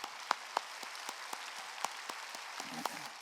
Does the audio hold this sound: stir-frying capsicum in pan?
no